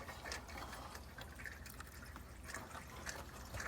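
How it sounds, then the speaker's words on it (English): Water trickling and dripping through a rain gutter just cleared of packed debris, a faint, steady gurgling flow with small drips, no talking. "See the water starting to move already."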